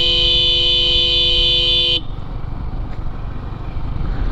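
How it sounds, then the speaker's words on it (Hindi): A motorcycle horn on a Yamaha R15 V3 sounds one long, loud, steady honk for about two seconds and then cuts off, leaving quieter street noise. "अभी हॉर्न देते हैं"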